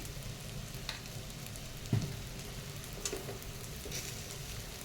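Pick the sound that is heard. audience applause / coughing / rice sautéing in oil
rice sautéing in oil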